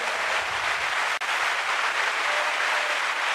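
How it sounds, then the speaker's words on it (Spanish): Loud, dense applause from a church congregation fills the whole moment, steady throughout with a brief dip partway. "Un fuerte aplauso al Señor de gloria."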